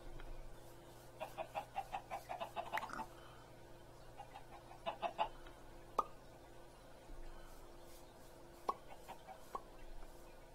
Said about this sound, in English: There should be another chicken running around here.